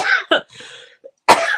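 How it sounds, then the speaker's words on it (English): A person coughs a few times at close range, in sharp, quick bursts with a short pause between them and no talking. "now all of a sudden you go live, you get nervous, and then you cough"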